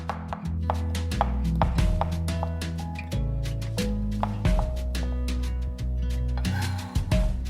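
Cremini mushrooms being thinly sliced with a knife on a cutting board, a run of quick crisp chops at a fairly even rhythm, close and clear with no talking.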